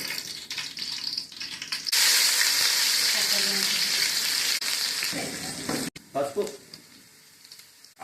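Loud hissing sizzle of tempering seeds frying in a large wok of hot oil bursts in and holds for several seconds, then settles, with faint voices and clinks around it.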